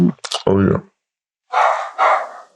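Several dogs bark in a few sharp bursts close by, with a person talking just before them.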